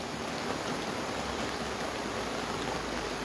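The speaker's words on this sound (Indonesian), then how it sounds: "selain hujan deras" Heavy rain pours down steadily in Enrekang regency, a dense, unbroken hiss of falling water heard close and continuous with no voices over it.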